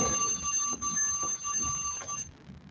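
An exercise timer alarm rings steadily with a high, tinny electronic tone for about two seconds, then cuts off, leaving faint room noise.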